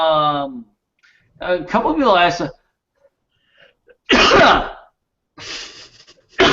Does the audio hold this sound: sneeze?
yes